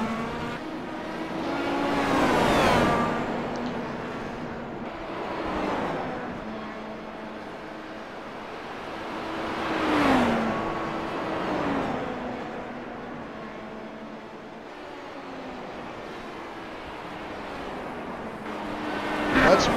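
IndyCar-style race car at Canadian Tire Motorsports Park in Bowmanville, Ontario, with engines rising and falling as cars pass in repeated loud sweeps about every few seconds, late in a senior racing league event.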